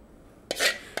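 A spoon scraping through thick cooked dal in a pot, a short rasping stroke followed by the start of another, close and fairly quiet.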